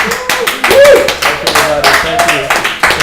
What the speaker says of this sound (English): Let's give one final applause for Ossian Stadigh here